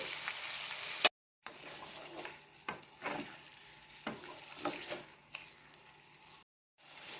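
Chicken fries in a kadai for restaurant-style kadai chicken. A faint sizzle runs under intermittent stirring scrapes and clatters, broken by two short silent gaps.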